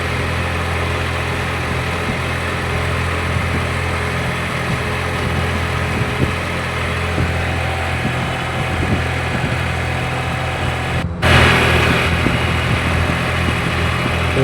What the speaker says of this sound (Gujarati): ट्रेक्टर चालू करे અત્યારે ખેતરમાં।